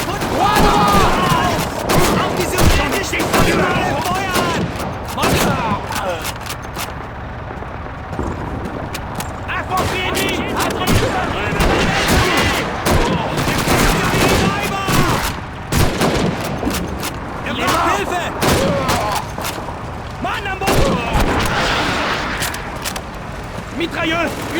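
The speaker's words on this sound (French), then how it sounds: "Mitrailleux, une MG42" Rapid bursts of MG42 machine gun fire in a Call of Duty 2 battle, sustained loud gunfire mixed with other shots and battlefield noise over the whole stretch, with voices shouting amid the chaos.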